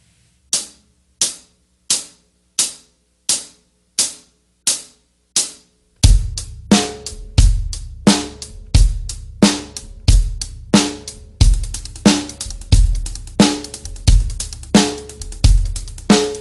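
Sharp percussive hits in an even quarter-note pulse, alone and crisp, then a faster, denser run of louder hits with a low thump underneath as the rhythm moves to eighth notes and 16th-note triplets.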